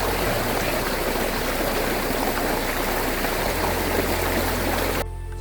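A river stream flows on an expedition hike, a loud, dense, constant rush of water close by that cuts off abruptly near the end.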